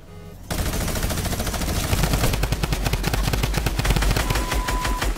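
A Fortnite minigun fires a sustained, rapid stream of shots after a brief quiet start, loud and dense, pulsing evenly for several seconds with no talk over it.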